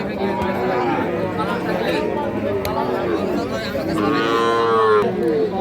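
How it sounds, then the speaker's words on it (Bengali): Cattle moo loudly at the Ambari cattle market, several long drawn-out calls rising over constant crowd chatter and people talking nearby. "এটা কি আমবাড়ি হাট কাঁপানো গরু?"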